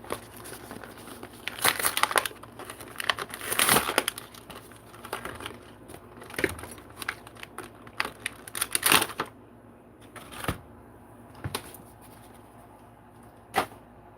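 Plastic packaging on a right-spinning Beyblade toy crinkles and crackles in bursts while being opened by hand, with rustling flurries and sharp snaps spread across the clip, close up and with no talk.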